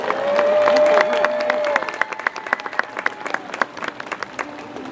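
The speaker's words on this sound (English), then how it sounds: "You guys give him a round of applause for that." Audience applause at a SeaWorld San Diego orca show, a dense burst of clapping that starts strong and thins into scattered claps, with a sustained tone and faint chatter in the first half.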